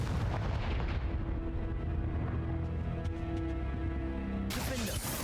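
Spell blasts and magical explosions from the Hogwarts Legacy video game thud and boom in a rapid series over a faint background score, closing with a sharp bright burst near the end.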